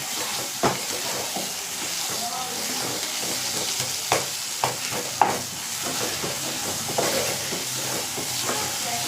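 Masala with fennel powder sautéing in a pan: a continuous frying hiss broken by sharp scrapes and taps of a spoon stirring at irregular intervals, close by and with no one talking.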